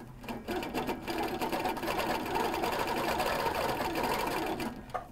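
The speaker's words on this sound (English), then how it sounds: "It's keeping me in stitch regulation as I stitch along here." An HQ Capri sewing machine stitches steadily along a quilting ruler, giving off a continuous, close mechanical whir with a fast even rhythm. It runs without letup for about five seconds and stops just before the end.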